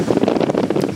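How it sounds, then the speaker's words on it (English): Strong wind buffets the microphone on open water during an Alaska canoe trip, a loud, close, continuous rumbling gust with fluttering bursts throughout. "It sure is windy."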